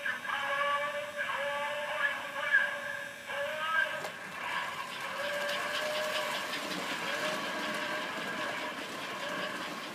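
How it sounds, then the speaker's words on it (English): An A. C. Gilbert model steam engine train rolls into a station, close to the rails, with a steady mechanical whir and hum that shifts in pitch partway through as the engine arrives. "I was able to capture the steam engine coming into"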